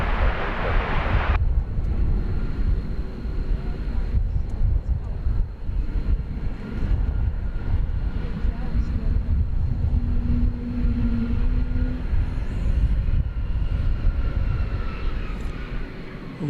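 An American Airlines jet bound for San Francisco rolls past at Dallas/Fort Worth airport, a loud, broad, continuous engine roar that holds steady, with a brief burst of noise at the start and faint voices underneath.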